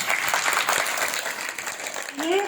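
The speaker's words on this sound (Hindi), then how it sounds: "लो सब ताली बजा।" An audience claps its hands at a Mahashivratri gathering, giving a dense burst of applause that stays fairly loud for a couple of seconds before a voice comes in at the end.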